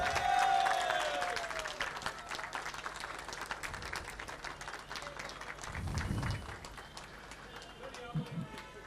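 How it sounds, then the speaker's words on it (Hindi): An audience at a felicitation event for director Rohit Shetty, celebrating the success of 'Sooryavanshi', applauds with a dense patter of clapping, swelling and fading while someone speaks over it. "हम जोरदार तालियों के साथ रोहित साहब का इस्तकबाल करेंगे।"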